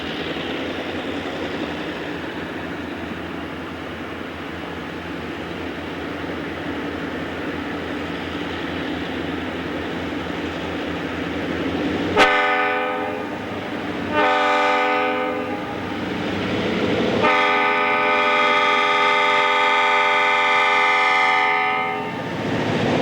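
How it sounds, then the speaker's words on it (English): An Illinois Central coal train rumbles steadily past a junction, then its horn blasts in several loud, sustained chords, the later ones long and strong over the continuing rail noise. "Another train of coal from the Illinois Central passes the junction."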